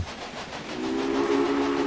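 A steam locomotive whistle in the Railway Empire game, Germany scenario, sounds a steady sustained tone in the second half over a continuous rolling train rumble.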